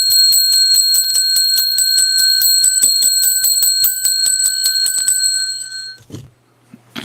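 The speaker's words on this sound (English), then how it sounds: "I'm going to ring it 10 times." A bright handbell is struck rapidly and repeatedly, ringing ten times in a fast, even run of loud metallic dings that then fades out to near silence.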